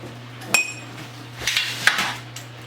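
A metal ice cream scoop shaping meatball mixture for Nigerian meatball stew, heard as a few sharp close metallic clinks and taps against a bowl over a low steady hum.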